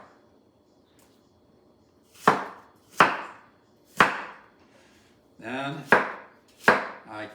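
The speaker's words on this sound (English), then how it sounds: "I take my cleaver, cut it in half." Six sharp, separate chops of a cleaver cutting an apple into slices and cubes on a cutting board, evenly spaced and close, each a crisp knock with a short tail, after a brief spoken word.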